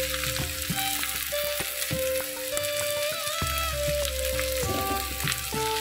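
Ingredients for upma sauté in oil in a pan on the stove, a loud continuous sizzle with occasional stirring scrapes throughout.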